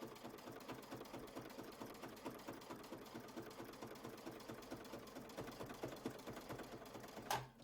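A sewing machine runs steadily while stitching a quilt block, giving a faint, continuous rapid clatter of needle strokes from close by, with a short sharp knock near the end.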